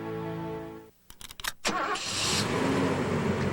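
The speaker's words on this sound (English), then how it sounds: "Starting your engine is a terrible thing to do." A car engine starting: a steady hum cuts off, the starter cranks in a few quick stuttering bursts, then the engine catches and settles into a loud, steady running roar nearby.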